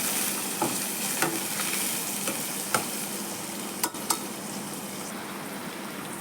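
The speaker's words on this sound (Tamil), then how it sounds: "4 பச்சை மிளகாய், 3 பெரிய வெங்காயம் நைஸாக இருந்து போட்டுக்கோங்க. இதை நல்லா வதக்கிக்கலாம்." Sliced onions, green chillies and curry leaves sauté in a pan for a fish curry, giving a dense, steady sizzle, with scattered spatula clicks and scrapes, near and loud, with no speech.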